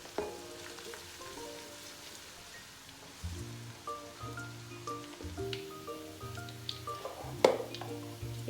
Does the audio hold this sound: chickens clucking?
no